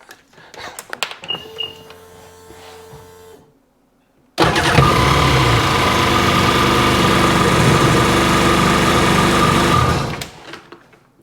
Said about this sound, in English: That engine sat for, what, 7 months without running? And I have not started it yet until just that second